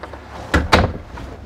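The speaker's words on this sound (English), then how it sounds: "I'll go through this door. You go through that door." The door of a 2017 Keystone Alpine RV opens and shuts up close, two quick knocks and thuds in a row inside the camper, with no talk.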